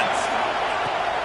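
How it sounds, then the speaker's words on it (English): Stadium crowd roaring at a college football game between Minnesota and Ohio State, fans urging on the defense, a dense, loud, continuous wash of cheering that fills the entire brief moment, with no pauses. "Listen to this crowd just shaking the girders of this place trying to help their defense."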